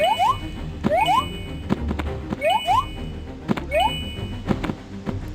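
Repeated dull thuds and thumps of a giant rat jumping land at an uneven pace in a children's game, mixed with cartoonish rising boings and bright pinging tones over a busy musical backdrop.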